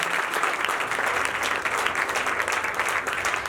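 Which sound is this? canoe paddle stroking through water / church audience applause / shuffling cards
church audience applause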